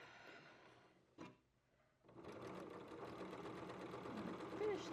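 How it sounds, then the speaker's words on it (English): Sewing machine stitching the underarm seam of a sleeve, a short burst, a brief pause, then a steady close whirring run of stitches, quiet and near. "I'm just sewing my sleeve underarm here"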